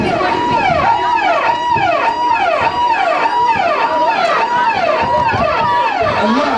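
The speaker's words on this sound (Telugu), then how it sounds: "అమ్మో అంబులెన్స్ అంబులెన్స్," An ambulance siren wails loud and near, its rising and falling tone sweeping steadily in repeated cycles over about six seconds, with faint background noise underneath.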